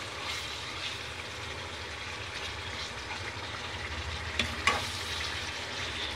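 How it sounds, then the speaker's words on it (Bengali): Boneless chicken chaap fries in a pan with a continuous close hiss of oil, spattering throughout and a couple of sharp pops near the end, with no talking. "আর দেখছেন তো ছিটকাচ্ছে"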